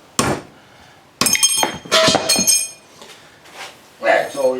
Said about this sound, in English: I found that if I wedge this a certain way here and get a good hammer on this